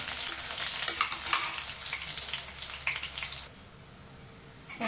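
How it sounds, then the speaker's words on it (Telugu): Dried red chillies and coriander seeds fry in a pan, giving a close, crackling sizzle with stirring noises that drops to a faint hiss near the end. "ఎండుమిర్చి ధనియాలు వేసేసుకోవాలండి. బాగా ఫ్రై అవ్వాలి."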